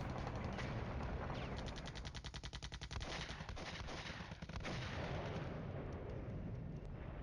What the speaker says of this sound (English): It's mortars coming in.